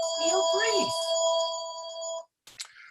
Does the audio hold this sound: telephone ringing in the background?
yes